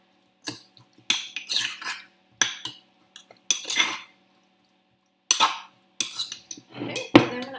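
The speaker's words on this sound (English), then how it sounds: "add 2 tablespoons of olive oil. And give it a good stir" A spoon works olive oil into a bowl of basil pesto, producing short bursts of scraping and clinking against the bowl, separated by silent pauses, close and fairly loud, without speech.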